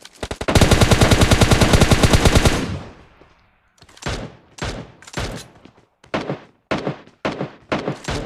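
A long, rapid burst of automatic gunfire, then a run of shorter bursts and single shots with brief pauses, loud and close.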